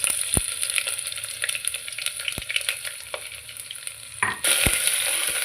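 Ginger garlic paste with a bay leaf fries in a pan for a soybean pulao, giving a soft continuous sizzle broken by a few sharp spoon knocks against the pan, then a louder burst of sizzling near the end.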